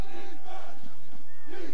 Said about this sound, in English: They're chanting for their defense to make a big play.